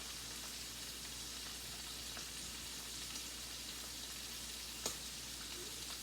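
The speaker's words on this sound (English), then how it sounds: "I'm just going to fry them in, and I'm going to leave the oil that's in here in there" Clams frying in oil in a pan, a steady close sizzle with occasional small pops and crackles, unbroken and moderately quiet.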